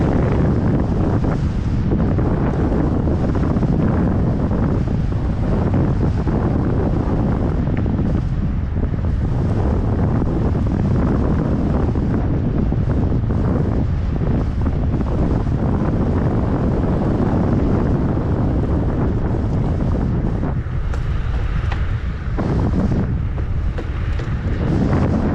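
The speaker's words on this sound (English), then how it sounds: "Oh boy, it's windy!" Strong wind buffets the microphone continuously while riding an Onyx along a bike trail, a loud, unbroken roaring rumble with slight surges and no talk.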